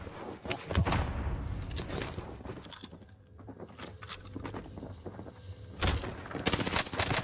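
Rapid bursts of video game gunfire, loud and close, with sustained automatic fire at the start and again near the end, separated by a quieter stretch.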